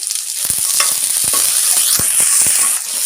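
Small onions sizzle steadily in sesame oil with a little rock salt for a Chettinad chicken gravy, loud and close, while a spoon scrapes and stirs the pan in repeated sharp strokes over the constant frying hiss.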